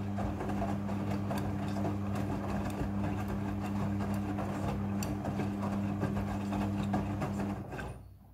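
Steady mechanical hum with a strong low drone from a Midea front-loading washing machine as it fills with rinse water, running continuously and fairly loud before cutting off near the end.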